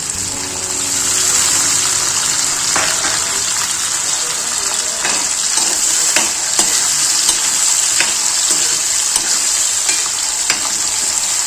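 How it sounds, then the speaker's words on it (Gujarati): Coriander, tomato and paneer pieces frying and being stirred in a pan for paneer Maggi, with a steady loud sizzle and intermittent scraping strokes throughout. "ત્યાર પછી કોથમીર, ટમેટા અને આ પનીરના ટુકડા નાખવાના છે."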